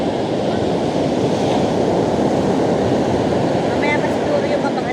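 Strong ocean surf at Baler, Aurora, a steady loud roar of breaking waves that fills the whole stretch with constant wash and no pauses.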